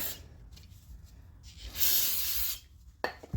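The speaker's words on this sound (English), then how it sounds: "give a little spritz. Wash all the brake dust off." A spray bottle spritzes cleaner to wash brake dust off a car's brake parts during a brake change, one hissing burst of about a second in the middle, close to the mic, over low background rumble.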